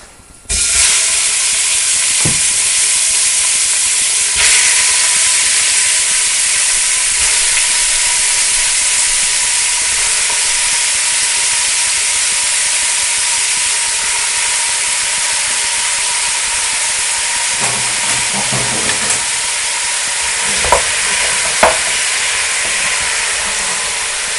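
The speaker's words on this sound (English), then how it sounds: "I'm going to pop this in the pan and hopefully it will start to sizzle." Steady loud sizzling and hissing of beef pieces frying in a hot pan, continuous for the whole stretch with a few faint clinks near the end.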